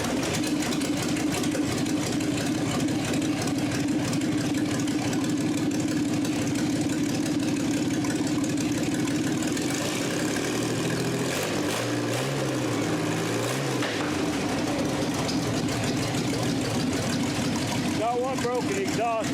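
A Blastolene B702 V12 engine runs with a loud, steady rumble throughout, its pitch dipping and rising midway as it settles toward idle, with a brief whine near the end.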